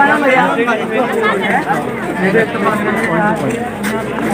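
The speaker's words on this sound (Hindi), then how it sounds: "देखिए चारों तरफ आज बहुत क्राउड है" A large crowd of visitors chatters at the Taj Mahal in Agra on a busy Thursday, a loud close babble of many overlapping voices with no single speaker standing out.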